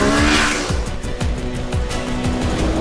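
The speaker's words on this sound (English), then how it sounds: "It is incredible how this parallel twin 649cc motor can still provoke the kid in you." Kawasaki Z650 BS6 with a 649cc parallel twin engine revs hard, loud and close, with repeated rising and falling pulls that sound like quick throttle blips and gear changes, and no talking.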